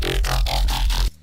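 A synthesized bass patch, the second bass sound built for a song, plays loud and alone in a steady pulsing pattern of about five quick repeated notes, full and buzzy, then cuts off abruptly.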